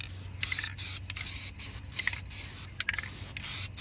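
Short hissing bursts of spray paint hit the bare metal edges of an upside-down Solar Fox arcade control panel, several quick passes close by with brief pauses between them and a low hum underneath.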